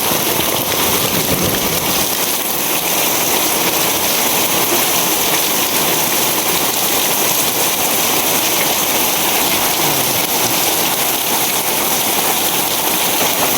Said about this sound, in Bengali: কি স্পিডে বৃষ্টি হইতেছে